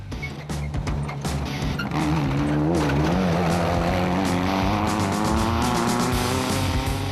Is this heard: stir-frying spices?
no